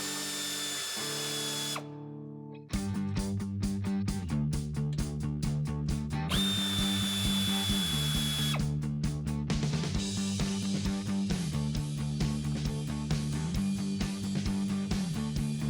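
A power drill fitted with an 8 mm socket backs screws out of plastic trim on a Jeep Wrangler JL. It whirs in short repeated bursts with a brief pause and some clicks, close and loud, with no talk.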